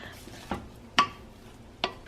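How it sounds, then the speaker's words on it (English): A utensil stirs garlic into cooked quinoa in a pan, giving three sharp, separate clinks against the pan in a quiet kitchen, with nothing else audible between them. "I'm adding some garlic to my quinoa because it just adds nice flavor"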